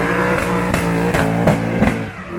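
A nearly 900-horsepower drift car engine at a British Drift Championship round roars loud and close, with harmonic revs rising and falling through several sharp surges.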